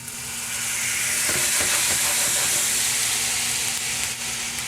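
Maple syrup and lemon zest sizzle loudly in a hot pan as a salmon glaze starts, a steady bright hiss with a few soft spoon scrapes partway through.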